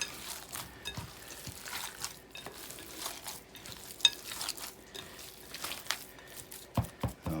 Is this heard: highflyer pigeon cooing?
no